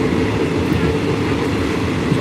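Train rolling through open countryside on the line to Kanchanaburi, Thailand: a steady, loud carriage rumble with dense low-end rattle, continuous throughout with no talk.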